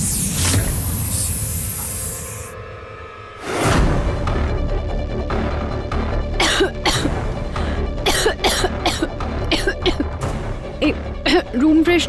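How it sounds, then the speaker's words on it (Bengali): A room freshener sprays in a long hiss, then a woman coughs repeatedly in close, harsh bursts, with voices talking around the coughing. "কি হয়েছে মা, কাশি হচ্ছে তোমার?"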